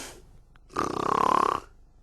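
A storyteller's voice imitates a bear's loud snore: one drawn-out, rattling, throaty rasp lasting under a second, close and clear, with near silence around it.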